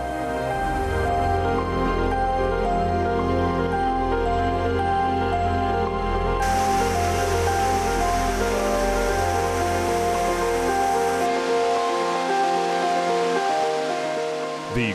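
The Kokol waterfall plunging about 80 meters from a steep cliff before joining the White Beryl River, heard as a dense, steady roar of falling water that holds loud and unbroken throughout.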